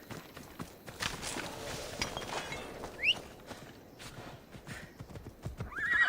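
A horse gallops in Assassin's Creed Odyssey, steady hoofbeats clip-clopping close by, with a whinny or two rising above the rhythm and faint background bird calls.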